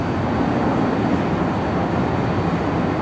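A business jet at Cleveland Hopkins Airport produces a steady, loud broadband engine roar with a faint high whine, continuous and unchanging, with no talking.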